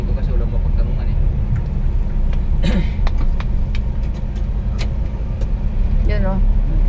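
A motorized tricycle's engine hums along a Philippine highway amid general road noise, a continuous close drone with voices talking over it.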